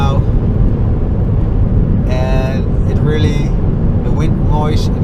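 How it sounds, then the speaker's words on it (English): Loud, steady roaring wind and road noise inside a moving Ford Focus SW ST Line, with voices speaking briefly over it. "You hear the wind noise right now"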